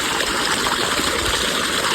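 Water rushes under pressure through farm irrigation in a steady, loud, unbroken gush that stays close and constant throughout.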